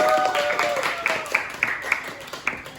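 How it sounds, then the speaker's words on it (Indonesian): A class gives a student a short round of applause after an answer, a few sparse claps rising over a faint background tone and soft room noise. "Tepuk tangan dong untuk teman yang udah menjawab."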